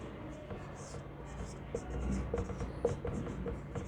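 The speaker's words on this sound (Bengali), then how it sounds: "এবার 2 নম্বরে লিখব" Chalk or a marker scrapes in short, uneven strokes on a classroom board during a tense lesson, soft scratches and taps clustering near the end under a steady room hum and murmured speech.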